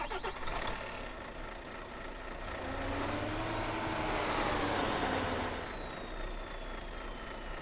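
A modded Volvo truck fitted with a Scania engine in the SpinTires off-road game, a loud steady diesel drone that swells and rises in the middle before easing back, with a faint whine above.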